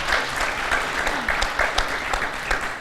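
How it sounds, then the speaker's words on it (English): An audience at an energy conference panel claps for the speakers, a moderate, even round of applause with distinct claps poking through the steady patter. "A round of applause to our distinguished speakers."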